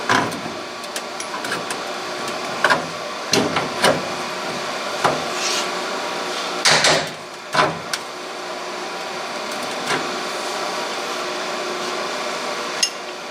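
Repeated metallic hammer blows on the dual exhaust pipe of a 2012 Ford F150, sharp irregular knocks with scraping between them, close and loud with no talk.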